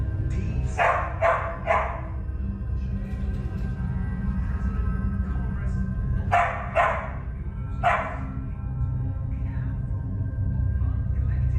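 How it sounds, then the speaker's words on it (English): Dogs bark inside a house in short clustered bursts, a few sharp barks early and again later, fairly close and loud over a steady low background hum. "Dogs reacted instantly."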